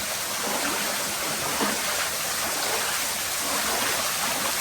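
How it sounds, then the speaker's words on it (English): A steady broadband rush of falling water fills the scene continuously, even and unbroken, with no voices. "Oh, there's a waterfall."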